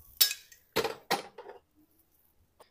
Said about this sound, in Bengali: কড়াই বসিয়ে দেব।